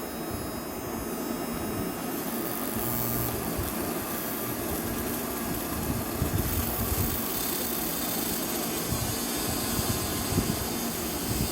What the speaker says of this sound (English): I'm just putting the voltage, rotation to the BLDC motor.